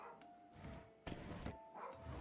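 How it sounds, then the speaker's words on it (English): A dog barks in a few short, sharp bursts, fairly faint and set against a quiet indoor background. "Dog is losing her mind."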